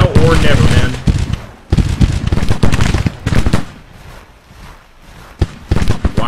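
Spencer carbine volleys crack out in the Civil War strategy game Grand Tactician: loud, ragged bursts of overlapping shots that come in dense clusters, with brief lulls between them.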